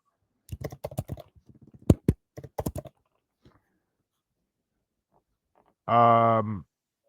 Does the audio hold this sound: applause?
no